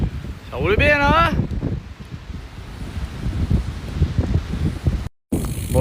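Strong wind buffets the microphone during a group bicycle ride, a steady low roaring rumble running throughout, with a voice speaking briefly near the start and a short dropout near the end.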